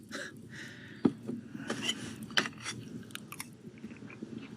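Someone chews a bite of steak seasoned with fire starter, wet close biting and mashing with a few sharper crunchy clicks, no talking over it.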